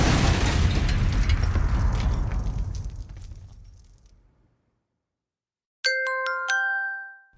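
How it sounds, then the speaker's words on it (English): A loud, broad explosion rumbles and slowly fades over about four seconds, followed after a short silence by a bright cluster of ringing, chiming tones. "Well, that could cause an explosion."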